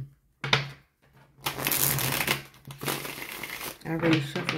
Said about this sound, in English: already shuffled this deck, but I'm just shuffling again